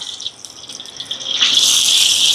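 Coconut oil being poured into a hot pot for chicken biryani, a steady hissing, splashing stream that swells louder and brighter partway through and continues to the end, with no voices.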